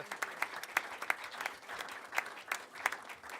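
Modest, fairly sparse applause from a general-assembly audience honoring the secretary, with distinct individual claps standing out over a light background of clapping.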